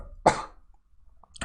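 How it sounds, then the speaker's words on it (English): A man clears his throat in one short, rough burst, followed by a faint pause and a second brief throaty rasp, close and dry. "I was clearing my throat"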